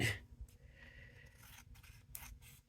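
Cardstock trimmed for card making, with short close snips and cutting strokes in a quiet room, a few crisp bursts across under three seconds.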